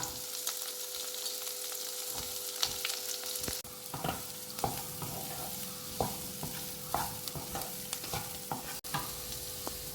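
Garlic, ginger, green chilli and onion sauté in a pan for a Malayalam matar paneer base, a steady close sizzle broken by repeated scraping stirs of a spoon against the pan, with no talking.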